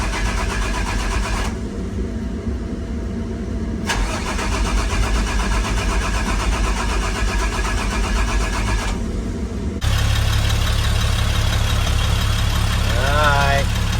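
A car engine cranks and catches once a disconnected crank sensor is plugged back in, rising to a loud steady idle with a brief rev near the end, with speech over it.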